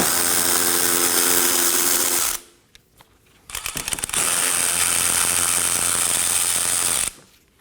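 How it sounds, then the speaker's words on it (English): Bolts being removed from a Dodge Durango with a power tool, heard as long loud continuous whirring runs broken by a short pause and a few quick ratcheting bursts, close by. "Now I'm going to remove one 10mm bolt and one 8mm bolt as well."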